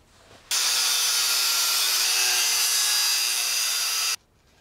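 A power tool cuts a metal bar in half, starting abruptly and running at a loud, steady high-pitched grind for about three and a half seconds before stopping sharply, with no talking.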